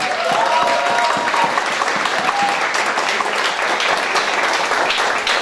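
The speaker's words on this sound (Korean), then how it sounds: "자, 큰 박수 부탁드립니다." Sustained audience applause fills a hall at the Justice Party's Daejeon city chapter founding convention, a dense, even patter of many hands lasting several seconds, with a faint voice briefly near the start.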